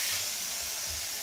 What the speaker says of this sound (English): I am just spraying water to keep it soaking wet for this styling step